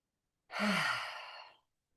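A single deep, audible exhale during a gentle spring yoga session for joint mobility, a soft breathy whoosh lasting about a second, close and alone with no talking.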